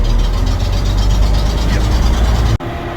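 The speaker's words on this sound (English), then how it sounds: "it does have quite a good exhaust noise at the moment" Exhaust of a vintage bus engine at a Scottish bus museum, a loud, steady low rumble running close by for nearly three seconds before cutting off abruptly near the end.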